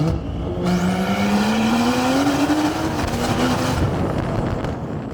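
A 991.2 Porsche Carrera's exhaust roars loudly and close in sport mode, its pitch climbing steadily as the engine revs through the gear, with a deep rumbling growl.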